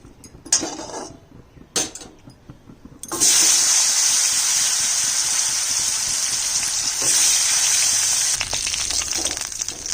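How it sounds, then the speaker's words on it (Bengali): A few scattered clatters, then a loud, steady sizzling hiss suddenly begins as sweet potato hits hot oil and keeps going to the end. "মিষ্টি আলু ভাজবো।"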